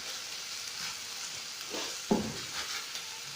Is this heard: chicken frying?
yes